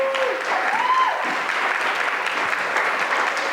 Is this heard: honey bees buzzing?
no